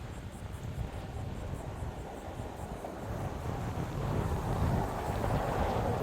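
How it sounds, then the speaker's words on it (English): Steady wind rushing at a breezy Pine Island waterfront on a hot day, a continuous low roar of gusts buffeting the microphone that swells slightly louder toward the end, with no talking. "Very breezy."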